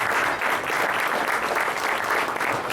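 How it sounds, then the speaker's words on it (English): An audience breaks into dense, steady applause that holds at full strength for the whole few seconds, with no voices rising above it. "Give them a round of applause."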